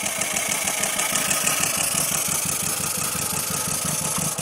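A 1959 Austin-Healey Frogeye Sprite with a new coil, condenser and rotor and a bit of choke fires up and settles into a steady, rhythmic idle, the small four-cylinder pulsing evenly and close by with no talk.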